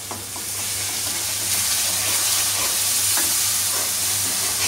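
Ground spices, chilli, cumin and nut paste sizzle steadily in hot oil in a home kitchen pan, a loud continuous frying hiss with faint stirring scrapes and no talking.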